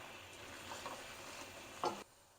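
Chopped radish and spinach with crushed green chillies roast in a pan with a soft, even sizzle and gentle stirring, and one sharper scrape just before the sound drops off.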